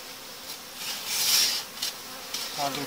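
Honey bees buzz at a hive after a reorganised colony merger, a soft steady hum that swells in the middle and fades, with a brief tap near the end.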